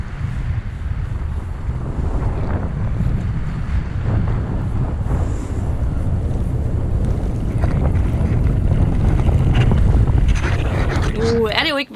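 A sailboat heading out past a harbour breakwater, with constant loud wind buffeting the microphone over rushing water and waves splashing against the hull throughout.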